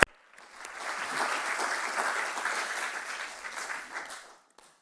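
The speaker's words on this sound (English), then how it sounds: "just a quick round of applause for all those people who chose to go and make that commitment" A room of members at a general meeting breaks into applause, the clapping rising quickly after a sharp opening click, holding steady for several seconds, then fading out near the end.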